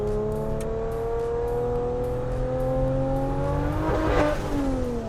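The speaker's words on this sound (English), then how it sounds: "if we give it real light throttle, so no boost, it actually runs really smooth and it doesn't cut up" A Nissan Navara with a swapped-in Ford Barra engine running smooth at light throttle without boost, a steady close drone with slowly shifting engine tones and a brief rise in revs near the end, no talk.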